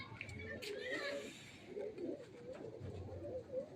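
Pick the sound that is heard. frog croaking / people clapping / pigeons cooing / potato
pigeons cooing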